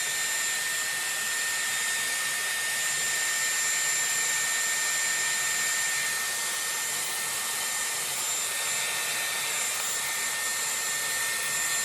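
A Dyson Airwrap with a round brush attachment blow-dries hair in a loud, steady, close whoosh of rushing air that runs without a break throughout, with no talking.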